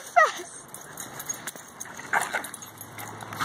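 Dogs play fighting make sharp yips and brief whimpering growls amid scuffling and jangling collar tags, close by, with short bursts separated by quieter rustling.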